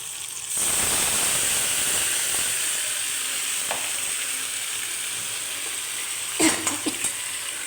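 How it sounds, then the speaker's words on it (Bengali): Ground spice paste, fried beforehand and blended in a mixer, hits hot oil over softened onions and erupts into a loud, steady sizzle that settles into a constant hiss, with a few sharp spatters near the end. "এবার এর মধ্যে মশলা বাটা যেটা ভেজে রেখেছিলাম মিক্সিতে, সেটা"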